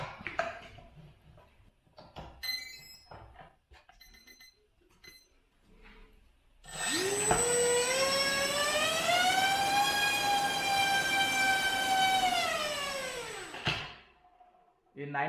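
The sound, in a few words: brushless motor running thrust test on 4S battery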